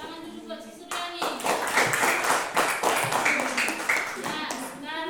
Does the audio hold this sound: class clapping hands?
yes